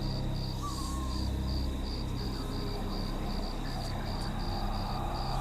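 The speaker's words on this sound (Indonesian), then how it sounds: "Suara jangkrik dan desiran angin yang lembut" Crickets chirp in a steady, even pulsing rhythm at night beside a house terrace, a soft constant background of gentle wind and insect hum running unbroken throughout.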